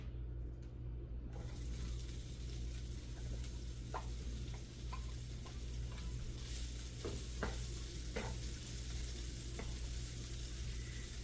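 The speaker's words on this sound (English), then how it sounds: "anything where it separates from there down below, I will saute up in this pan" Vegetable stalks sauté in a pan with a steady sizzle over a low hum, punctuated by several light scraping clicks of stirring.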